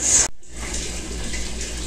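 Tap water runs steadily into a sink while filling for an aquarium water change, a close, continuous broadband splashing rush after a brief cut at the start.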